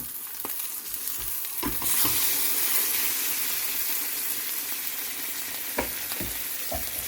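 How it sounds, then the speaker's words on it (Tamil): An egg sizzles steadily in a pan over the fire, with a few sharp scraping and clinking knocks as it is flipped, the broadband frying hiss continuous and close with no voices. "இப்போ நாங்கள் இது ஒருக்கா புரட்டி விட போகிறேன்"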